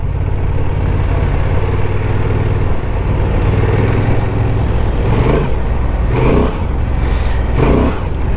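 Honda Transalp 750 motorcycle riding off-road with the rear wheel spinning: a steady, loud engine drone close to the microphone, with a few surging revs and bursts of wheel spin toward the end.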